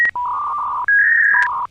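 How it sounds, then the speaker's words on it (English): A dial-up modem dials out to connect to AOL, a rapid sequence of loud, clean touch-tone beeps at close range, with no voices. "I gotta get on AOL here."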